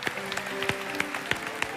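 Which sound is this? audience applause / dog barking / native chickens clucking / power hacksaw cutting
audience applause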